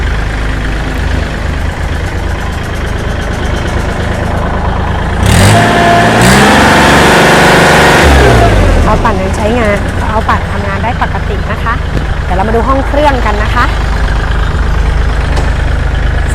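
Used 2015 Kubota L3608SP three-cylinder farm tractor engine running steadily, with a louder burst of revving midway, heard under continuous talk from a nearby speaker.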